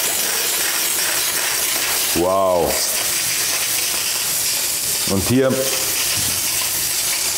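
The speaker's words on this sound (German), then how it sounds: "jetzt ist Dampfpower da" The steam wand of a small Rocket Espresso STONE espresso machine hisses steadily and continuously, with brief exclamations in German spoken over the hiss.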